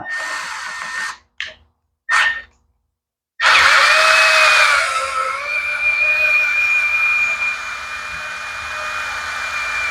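A power drill whines in a few short bursts while drilling out rusted screws on a minibike, then runs steadily and loudly with a high, grinding tone for several seconds.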